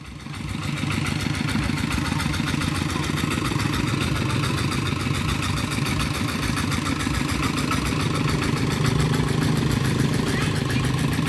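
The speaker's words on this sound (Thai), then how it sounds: "ขี่รถไถไปเต็มรถเลย" A tractor engine runs steadily at close range for the whole stretch, a loud, continuous low-to-mid rumble with an even chugging pulse and no talk over it.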